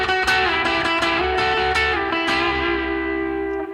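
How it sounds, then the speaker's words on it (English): An electric guitar played through distortion and reverb plays a rock and roll lick of sliding 7th chord shapes with repeated picked attacks, then lets a final chord ring and fade. It is loud and close, with no talking. "That sliding 7th sound is a great one to use."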